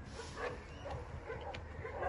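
A German Shorthaired Pointer hunting dog at an animal shelter gives a few faint, scattered barks and yips outdoors, with no voices.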